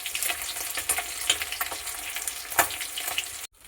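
Fish sizzle steadily as they fry in hot oil in a home kitchen, a continuous crackling spatter with brief stirring bursts, close and moderately loud, ending in sudden quiet.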